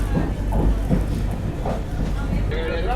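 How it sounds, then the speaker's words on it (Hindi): Vande Bharat Express train from Okha to Rajkot via Vadodara accelerating, heard from inside as a loud, continuous rumble with rhythmic rail thumps and rising whine, with a voice talking over it. "बाकी एक्सेलरेशन वंदे भारत एक्सप्रेस का ज़बरदस्त।"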